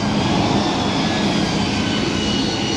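An AV-8B Harrier II jet at a military airshow demonstration gives a loud, continuous broadband engine roar, a steady dense rush with no breaks or voices over it.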